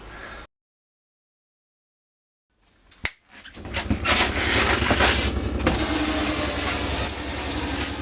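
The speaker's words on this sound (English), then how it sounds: "To drain the water out the water tank, we lift it up, which empties all the water out of the heater." Water rushes from a motorhome water heater after its drain lever is lifted: a sharp click, then a rising steady gush of flowing water that grows louder and holds, following near silence.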